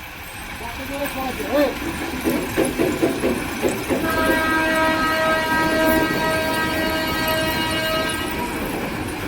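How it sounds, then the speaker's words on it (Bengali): A stone-loaded freight train moves slowly along a new platform line while dumping ballast stones, with rhythmic clanking of wagons, a rumbling roll and a sustained horn-like tone at a station, and someone talking over it. "সুন্দরভাবে পাথর খালি করতে করতে লাইনে ধীরে ধীরে ধীরে ধীরে এগিয়ে চলছে পাথর লোড মালগাড়ি"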